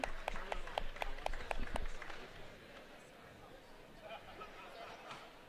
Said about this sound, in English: Let's hear a round of applause for our competitors today.